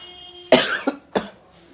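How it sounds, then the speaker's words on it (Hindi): A person coughs sharply two or three times in quick succession, close and loud, after a short quiet moment. "थोड़ी सी तबीयत ख़राब है, इस वजह से खांसी हो रही है"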